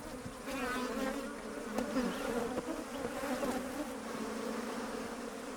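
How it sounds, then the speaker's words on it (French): A swarm of African honey bees drones around their hive built in a tree out in the bush, a dense, continuous buzz holding steady throughout without voices. "Des abeilles africaines ont construit une ruche dans un arbre voisin"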